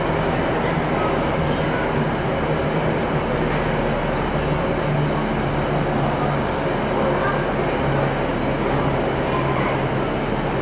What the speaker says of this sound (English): And also we have the arrival of the 1223 train to Blackpool North.